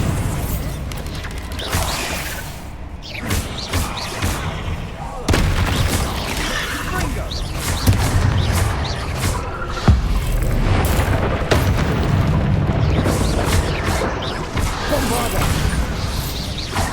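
Repeated Bombarda explosion spells in Hogwarts Legacy, played on hard difficulty during a fight with dragons and goblins, land as booming blasts and bursts among dense battle clatter and effects, with a voice speaking throughout.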